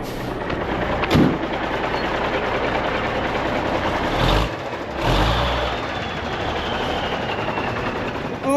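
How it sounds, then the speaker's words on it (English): The steel bottom of a lowboy trailer, pulled by a truck at a gold mine, scrapes along the ground: a loud, continuous grinding rumble with a few heavy thuds and bursts of scraping. "The bottom of the low boy just hit the ground."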